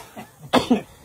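A person coughs twice in quick succession, close and fairly loud, the second cough a little rougher, with no talking.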